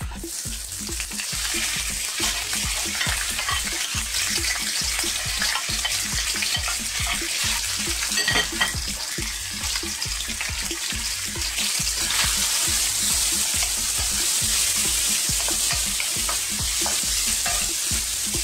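Chopped bacon, black olives, chunky garlic and onion fry in olive oil for an Italian dish, a loud steady sizzle close by with rapid rhythmic stirring scrapes throughout, no voices.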